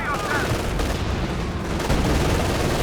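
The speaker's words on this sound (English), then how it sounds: "here comes the tulip rockets" Tulip rockets launching in a Company of Heroes 2 4v4 battle, dense rumbling blasts and explosions layered over continuous battlefield gunfire and a talking voice.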